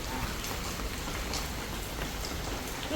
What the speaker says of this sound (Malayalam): മഴയൊക്കെയായിട്ട്